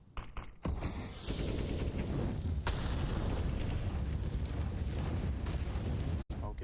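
A grenade blast in a professional CS:GO match, a rumbling low burst that holds for several seconds after a few sharp clicks, with a caster's voice running over it.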